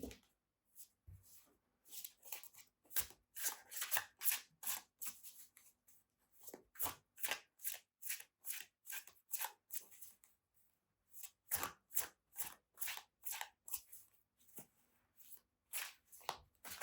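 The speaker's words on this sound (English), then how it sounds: "Let's shuffle." Tarot cards are shuffled by hand in a long run of crisp riffling bursts, near and clear, with short pauses between them and no talking.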